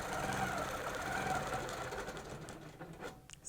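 A sewing machine runs continuously as it stitches a quilt guided by a cable ruler, a steady close motor hum with fine rapid needle texture that eases off near the end; no one talks over it.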